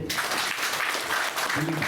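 Dense, steady audience applause fills the room at a Kannada stage talk, loud and continuous with a brief swell near the end.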